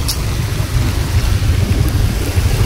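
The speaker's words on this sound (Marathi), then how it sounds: "काही फुल पाऊस जोरात पडायला लागला, एकदम पावसाळा चालू झाला" A loud, steady roar of heavy monsoon rain at an old Shiva temple in Navi Mumbai, with deep rumbling underneath, continuous and close, with no voices.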